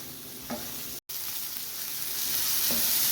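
Prawn roast stirred in a pan with coconut oil, a continuous close sizzle with a couple of soft scraping strokes from the spoon, cut by a brief gap of silence near the start.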